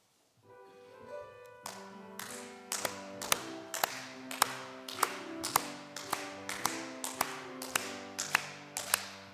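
A congregation at an early-morning Methodist church prayer service claps in a steady, even beat to a hymn, each crisp clap landing over sustained keyboard accompaniment.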